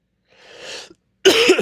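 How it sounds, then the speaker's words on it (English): A person still recovering from an illness coughs: a soft, breathy throat sound, then a short gap, then a louder, harsher cough burst close to the mic. "I'm gonna be coughing"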